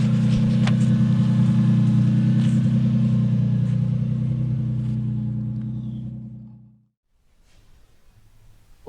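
A 1998 Toyota Supra MKIV imported from Australia runs with a steady, close, low engine hum that fades over a few seconds and then cuts off to near silence.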